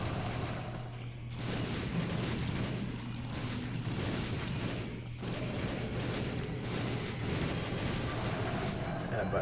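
Video game weapons firing in a dense, continuous barrage of overlapping shots and explosive thuds, loud and unbroken throughout, with a voice talking underneath.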